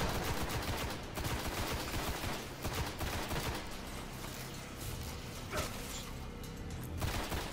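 Auto rifle fire in Destiny: The Taken King, dense rapid bursts of automatic shots layered with game effects, loud and sustained with short dips between volleys and no voices.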